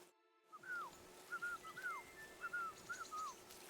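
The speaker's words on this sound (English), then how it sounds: "Your whistling is getting on my fucking nerves the whole way." A character in the video game Kingdom Come: Deliverance II whistles a tune in short, bright rising and falling phrases, repeated several times over a steady low hum, with no talk.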